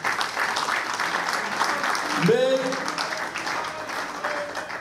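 Sustained audience applause at a political address in the Democratic Republic of the Congo, dense and steady throughout, with a voice briefly speaking over the clapping.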